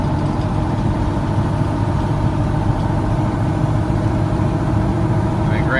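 A 2006 truck engine runs steadily at elevated RPM during a fuel injector test, a continuous low rumble with a constant drone and no break, close and fairly loud.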